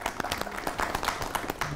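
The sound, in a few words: applause for supporters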